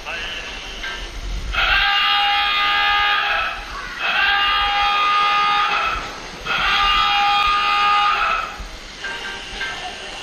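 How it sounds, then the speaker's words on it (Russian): Three long marine horn blasts played through a player on a platform, each loud sustained tone lasting about two seconds with short pauses between, a voice speaking at the start. "летнюю морскую версию космической платформы было решено оборудовать морским гудком и склянками"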